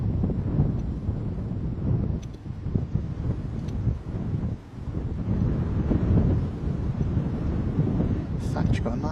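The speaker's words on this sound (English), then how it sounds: "Tidy little wind though up here, I'll tell you that." Wind buffets a microphone at an airport, a continuous low rumble with gusty swells throughout, loud and close.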